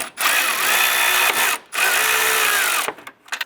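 Power drill removing a bolt on a Ford Fiesta during a strut and spring replacement, whirring loudly in two long bursts separated by a brief pause, then stuttering out in short, tapering pulses.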